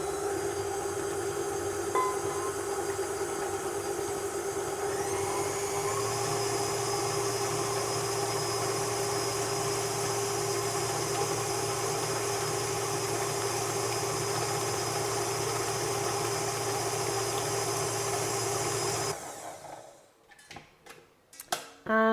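Tilt-head stand mixer beating cake batter for lemon madeleines, steady whirring motor hum with a faint rhythmic ticking that runs evenly for most of the time, then stops and leaves a few clunks.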